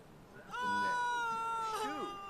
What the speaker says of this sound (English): here comes the flea cat, which I don't think has fleas anymore